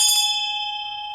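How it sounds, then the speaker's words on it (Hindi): A single bell strike rings out clearly, its bright metallic tone sustaining and slowly fading over about a second with no voices. "जिनके लिए घंटी बज रही है।"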